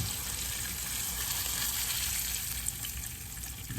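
Pork chops fry in a pan with a steady, loud, unbroken sizzle that holds level throughout and no talking.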